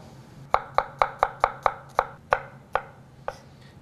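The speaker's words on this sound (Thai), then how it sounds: "กระเทียมก็ซอยเป็น แผ่นบางๆครับ" Knife slicing garlic thinly on a cutting board, about a dozen crisp, evenly spaced chops close up, with a short pause before the last few.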